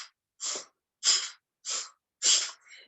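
Five sharp, forceful nasal exhales from a yoga breathing exercise, evenly spaced pumps about half a second apart with silence between them, close and alone.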